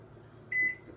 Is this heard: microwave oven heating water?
yes